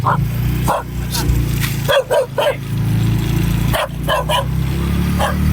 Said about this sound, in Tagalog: Eh, aso pa. Habol yung aso.